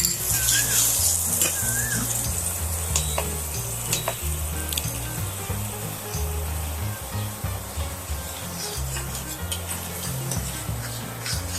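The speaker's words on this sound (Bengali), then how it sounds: "মূল পেস্টটা আমি এর মধ্যে দিয়ে এটা আমি এটা কষে নেব" A spice paste with garam masala is sautéed in hot oil, loud continuous sizzling and crackling with occasional spoon scrapes and sharp pops, steady and close for over eleven seconds, no speech.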